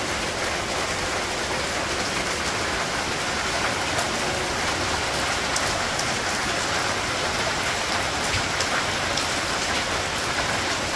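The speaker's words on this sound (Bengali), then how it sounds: "বলতে বলতে আইসা পড়ছে বৃষ্টি" Steady rain falls in a Bangladeshi village on an early November day, a dense, even patter of drops on surfaces that continues unbroken and fairly loud.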